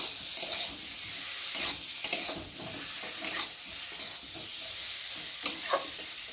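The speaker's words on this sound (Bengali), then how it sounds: "আলুগুলো মশলার সাথে একটু ভালো করে নেড়ে নেব" Fried potatoes being stirred into sizzling masala in a pan for egg pulao, a soft steady frying hiss with repeated scraping strokes of the spoon, close and fairly quiet, no voices.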